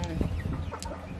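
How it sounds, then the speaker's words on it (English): Free-range hens on a mixed farm cluck in short, irregular bursts nearby, several birds overlapping with a faint voice underneath. "Like our local hens, we have so many of them here."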